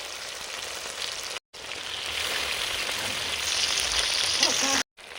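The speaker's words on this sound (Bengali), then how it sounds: "নিহেড়ে মাছটা হালকা করে ভেজে নেব" Nihere (lote) fish fries in oil in a kadai, a broad close sizzle that swells and steadies, broken by two brief silent gaps.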